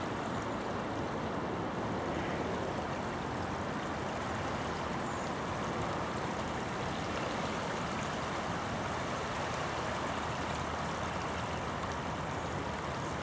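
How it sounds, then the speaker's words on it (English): Fast-flowing winter stream beside a countryside walking path, a steady broadband rushing of water running continuously and fairly close, with no voices over it. "You can probably hear how fast that water's flowing."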